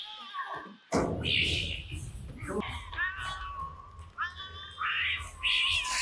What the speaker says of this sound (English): So it's just a bunch of cats?